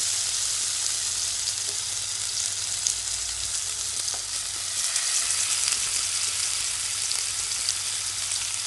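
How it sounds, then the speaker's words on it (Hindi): Chicken boti kebab skewers frying in hot oil in a nonstick pan, giving a steady close hiss and crackle with small pops scattered throughout. "एक नॉनस्टिक पैन में पहले से गरम तेल में इस सीख को हल्के हल्के लगाते जाएं।"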